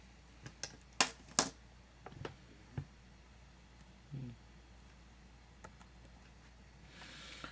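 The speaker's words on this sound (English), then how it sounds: "I'm going to do it by typing." Keys tapped on a keyboard in a quiet room, a few sharp clicks clustered early then sparse scattered taps, close and fairly faint.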